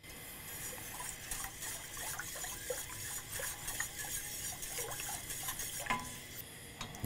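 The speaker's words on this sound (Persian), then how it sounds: "کم کم به تدریج همه استاک رو اضافه بکنید" Beef stock is poured little by little into a thickening espagnole sauce in a pan on raised heat, giving a steady low liquid wash with scattered utensil clinks and light stirring scrapes throughout, and no talking.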